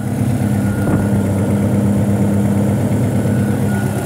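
Car engine idling with a faulty knock sensor, a loud, close, steady mechanical rumble with a continuous low drone and no pauses.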